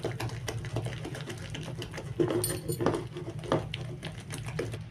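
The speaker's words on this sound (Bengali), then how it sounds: "এখন এটা ভালো করে ফেটিয়ে নেব হাতে করে" A paste of lentils and shiuli leaves is beaten by hand in a bowl, giving a quick run of wet slapping and tapping strokes, close and moderately loud, with no speech.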